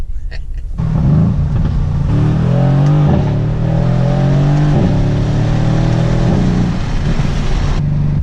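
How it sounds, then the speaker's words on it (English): A Mercedes engine revs with its exhaust valves open, giving a loud, deep exhaust rumble that rises and falls through several throttle blips over about seven seconds with no popping at the end. "Open the exhaust valves. I mean, it sounds good, but it doesn't pop in the end."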